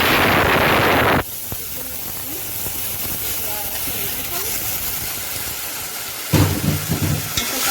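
A spoonful of butter hisses and sizzles in a pan on a gas stove while okra and meat tagine is prepared, a steady frying crackle with a loud burst of hiss at the start and again near the end.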